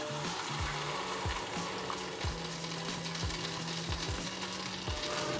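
Dosa batter, red rice kunduth dosa in Jaffna style, fries in oil in a small iron pan, a steady close sizzle with soft crackling and no talk.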